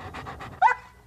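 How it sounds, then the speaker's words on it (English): A happy dog pants in a few quick, close breaths, ending with a short high yip or whine. No voices are heard. "For example, that's a happy dog."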